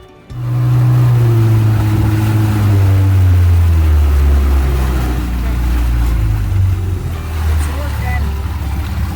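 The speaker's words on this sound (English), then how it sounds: "Right now there's no wind, so we'll be motoring most of the morning" Outboard motor pushing a MacGregor 26M sailboat along in calm, windless water, a steady close drone with a low throbbing hum throughout and faint water rush beneath it.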